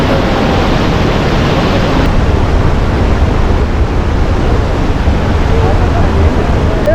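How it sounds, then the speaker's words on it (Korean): A large waterfall beside a suspension bridge on an Annapurna Base Camp trek in Nepal, heard as a steady, loud, broadband roar of falling water filling the whole stretch without a break. "출렁다리 옆에는 큰 폭포가 있습니다."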